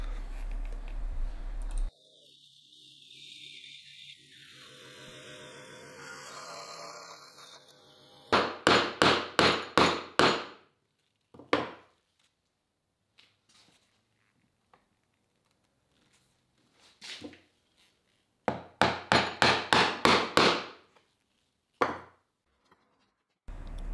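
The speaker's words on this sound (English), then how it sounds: "as I'm entering that chisel into the timber, you can see that the chisel is moving backwards towards the inside of the drawer" A mallet drives a chisel into timber to chop dovetail waste while building a chest of drawers, loud sharp blows in quick rapid bursts of five or six, separated by single strikes and silent pauses.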